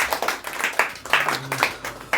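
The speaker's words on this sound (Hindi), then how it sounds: "आप आए और जो तालियों स्वागत करें रुचिता का।" A small audience at a school quiz prize ceremony claps briefly to welcome a 10th-grade winner, a couple of seconds of scattered, uneven clapping nearby.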